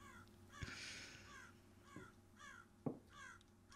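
Raven cawing in the horror video game Rise of Insanity, a few harsh repeated caws spread across the moment over a steady ambient game backdrop, with sharp thuds in between and no talk.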